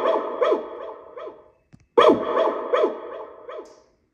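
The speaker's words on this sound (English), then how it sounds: "that's my dog guarding my expensive Bose equipment" A dog barks repeatedly nearby in two bursts of sharp, rhythmic barks separated by a brief pause.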